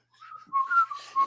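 A person whistles a short, clear tune of a few sustained notes, close and fairly soft, with no talking.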